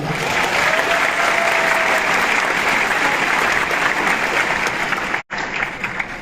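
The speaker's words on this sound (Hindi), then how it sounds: "एक जोरदार ताली होना चाहिए" Loud, dense applause from a large crowd at a training program speech, sustained and steady, with a brief sharp break near the end before the clapping resumes.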